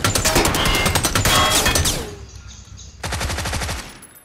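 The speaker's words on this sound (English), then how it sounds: "Well, I kept shooting." Rapid bursts of video game gunfire, a dense automatic-weapon stream that cuts off briefly, then resumes in a second shorter volley, loud and close with no talking.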